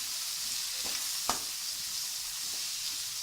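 Small onions sautéing in oil with salt in a pan, a steady even sizzle with a couple of brief utensil taps, close and continuous without talk.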